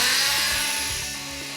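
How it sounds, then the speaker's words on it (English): An oscillating multi-tool plunge-cuts through wall trim, giving a steady, high-pitched buzzing whine that runs continuously at close range, easing slightly in loudness toward the end. "Using a multi-tool oscillating cut to make a nice clean plunge cut."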